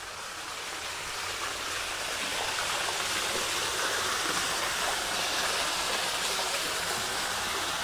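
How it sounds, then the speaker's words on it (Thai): A waterfall at the entrance of a cafe in San Kamphaeng, Chiang Mai, pours in a steady dense roar, close and loud, unchanging from start to finish. "นี่เข้ามาด้านหน้านี่เราก็จะแบบว่าเจอต้อนรับด้วยน้ำตกนะฮะ"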